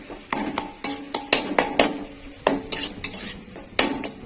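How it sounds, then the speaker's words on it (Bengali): Spice paste of turmeric, chili powder and ground cumin being stirred in a pan for ghugni, with a metal spoon scraping and clinking against the pan in an irregular rhythm over a faint sizzle, close and fairly loud. "মশলাটাকে আমি আস্তে আস্তে কষিয়ে নেবো।"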